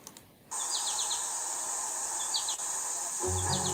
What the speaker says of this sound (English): It's like a background, there's like birds chirping kind of thing